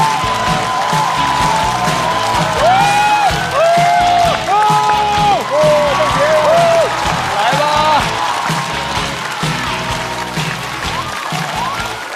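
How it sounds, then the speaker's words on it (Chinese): Audience applause and cheering at a stand-up comedy show greet comedian Li Mengjie as she takes the stage. A steady, loud wash of clapping and whoops runs throughout over an upbeat music sting. "掌声有请"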